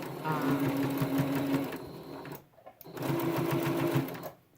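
A sewing machine stitches a homemade fabric face mask, a loud, close, steady mechanical whir that stops briefly and then runs again.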